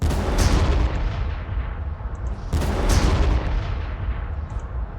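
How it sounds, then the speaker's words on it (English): Artillery fire in a Warhammer battle game, two heavy booming volleys with long rumbling decays, loud and dense, with no talk over them. "Artillery, concentrate fire on the gun wagon."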